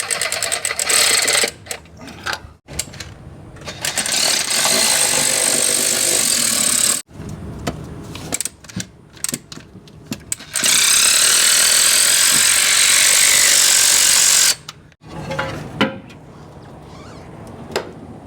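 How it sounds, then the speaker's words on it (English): Mechanical work on a 1970 Ford engine parked for 22 years as valve covers are removed, with loud bursts of buzzing power-tool whirring separated by short pauses and quieter clanking between. "So we'll go ahead and take these valve covers off."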